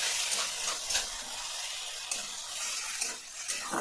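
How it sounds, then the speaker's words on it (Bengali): Fish curry masala paste for katla kalia frying in oil, a steady hissing sizzle with soft scraping stirs now and then, moderately close and continuous with no talk. "তেল ছাড়া অবধি আমি এইভাবে কষতেই থাকবো"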